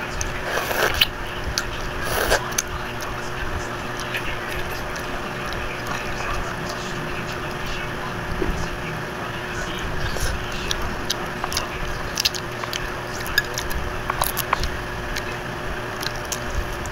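Someone eats balut egg up close, with soft wet biting, squishing and chewing sounds plus small clicks and ticks over a steady background, with a few brief louder crackles.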